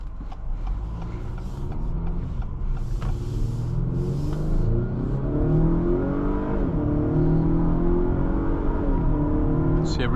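A 2026 Acura RDX Advance accelerates from the driver's seat, its engine note climbing and rumbling steadily from inside the cabin while a person talks over it.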